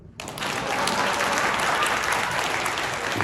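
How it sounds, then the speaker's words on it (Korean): Loud, sustained applause from an audience starts abruptly and continues steadily, dense clapping filling the room. "박수."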